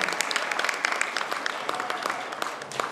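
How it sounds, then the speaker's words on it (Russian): A crowd at a New Year ball in the town of Udachny claps in steady, dense applause that carries on for a few seconds in a large hall. "Аплодисменты, друзья!"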